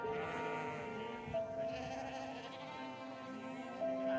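Sheep bleat a couple of times at moderate distance, short wavering calls over a quiet rural background with faint music or ambience.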